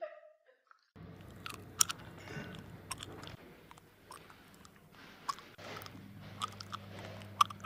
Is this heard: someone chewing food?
yes